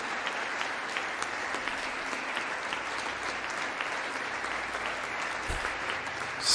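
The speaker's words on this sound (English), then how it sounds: "why are we clapping for that?" Steady applause from a crowd of lawmakers and guests at a presidential address to Congress, a dense, continuous patter of many hands at constant level, with a short sharp sound right at the end.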